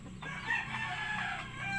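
Mahogany Rhode Island Red hens clucking and a rooster crowing nearby, a close, busy burst of fowl calls.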